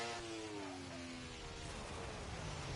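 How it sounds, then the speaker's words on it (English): An F1 car engine in a racing video game holds second gear, revs climbing and topping out in a high, steady whine with a falling pitch sweep, heard alone and slightly distant. "You can just hear the revs topping out as he makes his way slowly down the track."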